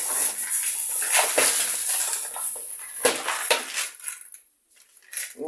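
A spoon stirs omega-3 supplement in a cup, scraping and clinking against the sides in a steady, busy rhythm of close metallic taps and rattles, with a brief lull near the end.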